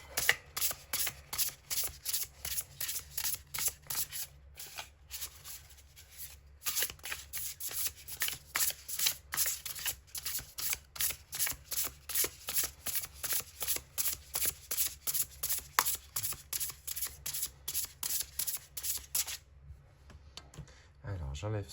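Black Madonna tarot cards riffled and shuffled by hand in a long run of rapid, close, regular flutters, briefly pausing mid-way and trailing into quieter handling at the end.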